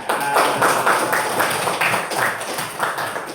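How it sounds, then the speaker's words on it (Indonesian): A group of people claps together in steady, rhythmic bursts, a fairly loud, close patter of hand claps keeping an even beat throughout with no voices over it. "Ya, beri tepuk tangan."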